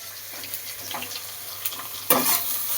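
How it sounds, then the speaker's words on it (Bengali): Chopped onions and potatoes frying together in a pan for a bele fish curry, a soft crackling sizzle with light stirring scrapes and a louder burst of sizzle near the end, close up with no voices. "এবার পেঁয়াজ কুচি দিয়ে আবারও খানিকক্ষণ ভেজে নেব আমি আলুটাকে।"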